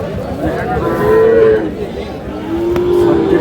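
A young bull calf at a cattle market gives two drawn-out moos, one in the middle and a longer one near the end, over a background of crowd chatter.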